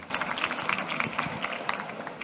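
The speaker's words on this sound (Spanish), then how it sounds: "Les pido un aplauso, por favor, para arrancar esta mesa redonda" An audience applauds steadily at the opening of a round-table panel on Next Generation funds, a dense, even patter of many hands clapping throughout the short stretch, moderately loud and without pause.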